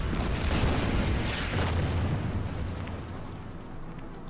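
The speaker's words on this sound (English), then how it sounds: "Nebelwerfer will attack the infantry." Nebelwerfer rocket artillery barrage in a World War II strategy video game, a dense roaring rumble of blasts with sharp bursts in the first two seconds, then a long fading rumble, loud and close.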